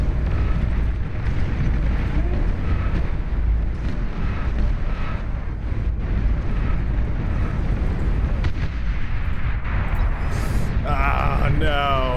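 Calamity heavy artillery in the strategy game Beyond All Reason, a dense, continuous roar of deep booms and rumbling blasts over the noise of a large battle, loud and sustained throughout.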